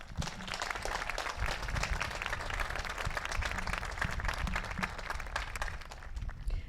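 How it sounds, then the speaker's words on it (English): A graduation audience applauds steadily for the full stretch, a dense wash of many hands clapping at moderate distance with no pauses. "So let's give them a round of applause."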